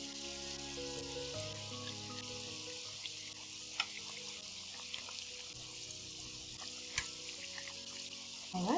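Green plantain slices fry quietly in a pan, a soft steady sizzle with a few sharp pops and a louder clatter at the end.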